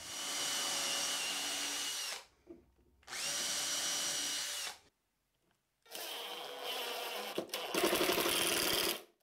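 A power drill drives screws into a wooden table saw trunnion held by clamps: three loud whirring bursts of a couple of seconds each, separated by short pauses, the last ending in a rattling stutter as the screw seats.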